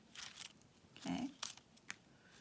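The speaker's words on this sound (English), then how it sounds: "I'm going to cut on the line that I drew, being careful not to cut into those other sections." Scissors snip through folded paper while a fancy snowflake is cut along drawn lines, giving a few short crisp cuts close to the ear, spread over a couple of seconds with brief pauses between.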